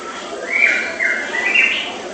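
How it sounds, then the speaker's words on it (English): A single bird gives a few loud, bright chirping calls in quick succession, clear and close over a quiet background. "The bird was very loud."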